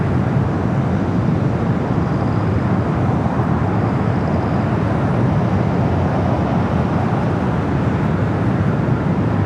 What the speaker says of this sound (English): It's the Korean Air Cargo 747-8 freighter.